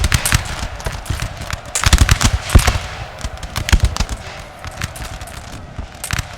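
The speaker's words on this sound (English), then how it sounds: "it sounds like there's combat going on" Musket volleys from a Napoleonic battle in the video game Napoleon Total War, the Battle of Sehested of 1813, crackle and rattle in a loud, dense, continuous fusillade of overlapping shots.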